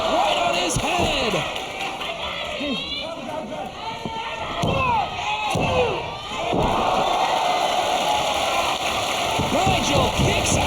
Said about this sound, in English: listen to the crowd showing their support for McGuinness as he continues to fight back